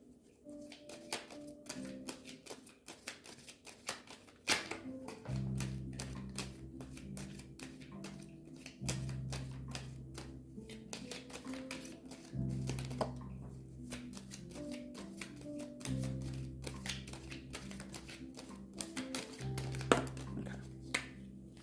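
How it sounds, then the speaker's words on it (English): Romance Angels oracle cards are shuffled close up, making soft repeated riffling and tapping bursts over a quiet, low, steady background hum, with no talking. "let's go ahead and pull 3 cards from the Romance Angels"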